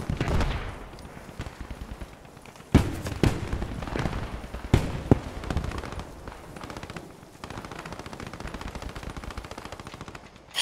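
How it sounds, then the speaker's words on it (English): A machine gun firing in Post Scriptum, with long bursts of rapid automatic fire broken by a few sharp louder cracks, sustained and fairly close throughout. "I wonder when the guy in the machine gun's gonna stop shooting at me"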